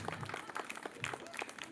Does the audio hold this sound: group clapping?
yes